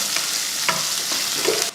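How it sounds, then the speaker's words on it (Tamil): Onions sauté in a pan with fennel seeds and peppercorns, giving a steady close sizzle broken by a few scraping stirs of a spoon, with no one talking. "வெங்காயம் இந்த அளவுக்கு பச்சை வாடை போகிற வரைக்கும் வதக்கிட்டு இதில் தக்காளி சேர்த்துக்கலாம்."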